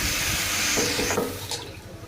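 Water pours into a simmering tamarind fish curry masala in a short, close gush, its splashing and bubbling fading away within a couple of seconds.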